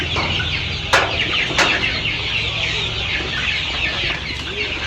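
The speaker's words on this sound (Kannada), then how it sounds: "25 ದಿವಸದ ಮರಿ ಇದು. ಆಕ್ಟಿವ್ ಇದೆ, ಇವೆಲ್ಲ ಸೇಮ್ ಹಿಂಗೆ ಇದೆ." Twenty-five-day-old broiler chicks in a poultry farm shed cluck and peep in a dense, continuous chorus, with a couple of sharp clicks close by.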